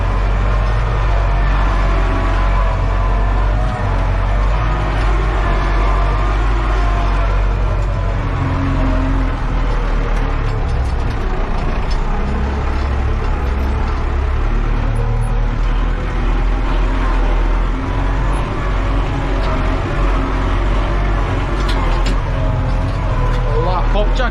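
A Massey Ferguson 3105 tractor drags a wide 17-tine cultivator across a triangular field, its engine a steady low rumble throughout with someone talking over it.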